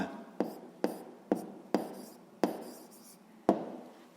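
Marker or pen writing edge labels on a board for a sixth-grade math exercise on a rectangular box's edges: a series of six crisp strokes, each a sharp tap fading into a short scratch, with no talking.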